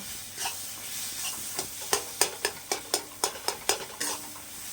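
Fried egg bhujia being stirred into sizzling pointed gourd in a pan: a soft frying hiss underneath with a run of about a dozen sharp, rhythmic scrapes and clicks of the spoon, close and clear.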